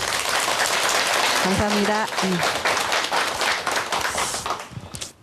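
A studio audience at a Korean televised lecture gives a round of applause to welcome the speaker. The clapping is dense and continuous and tapers off near the end, with a brief spoken thanks over it.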